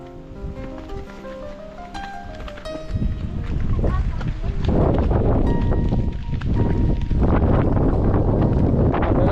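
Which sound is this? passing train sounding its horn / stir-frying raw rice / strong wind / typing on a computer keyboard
strong wind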